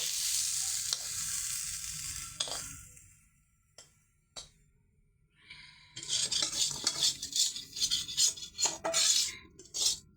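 Taro stolons fry in a wok with a steady sizzle, broken by bursts of a utensil stirring and scraping against the pan, growing busier and louder toward the end.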